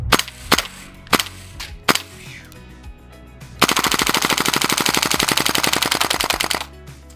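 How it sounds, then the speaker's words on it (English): KWA LM4 gas airsoft rifle firing at a target: a few separate semi-auto shots, then a long, loud, rapid full-auto burst of several seconds, close by with no talking. "We're gonna do some semi-burst and some full auto on our nice target"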